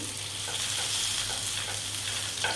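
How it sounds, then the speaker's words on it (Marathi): Semolina sandwiches fry in hot oil, a steady close hiss and crackle with a faint stir near the end and no voices. "तेलामध्ये थोडेसे असे फ्राय करून घ्यायचे आहे"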